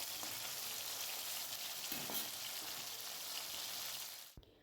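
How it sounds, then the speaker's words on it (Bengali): Bhola fish frying in oil in a pan, a steady soft sizzle and crackle that stays fairly quiet and even, then cuts off abruptly at the end. "দেখো মাছটা ভাজা বসিয়ে দিয়েছি"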